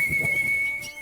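A man whistles a single sustained, steady note to call wild sparrows, clear and fairly close, with soft rustling and ambient noise underneath.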